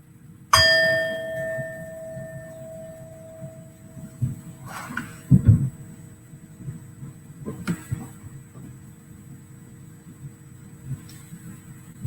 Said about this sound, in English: when you hear the sound of the bell, you can slowly open your eyes and come back to the room